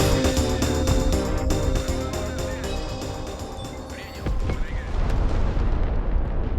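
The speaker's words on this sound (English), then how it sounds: "a last second bombing run on the ATGM vehicles camping the road" Heavy explosions from a bombing run in the military video game Broken Arrow, a dense, continuous roar of booms and blasts that fills the whole stretch and thins slightly toward the end.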